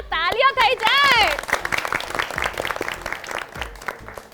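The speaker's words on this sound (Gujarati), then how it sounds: "ફરાળ વડે જ વ્રત ફળે, તો જોરદાર તાળીઓ થઈ જાય." Game show audience applauding the winners, a burst of clapping over cheerful musical tones at the start, then scattered claps fading under continued background sound.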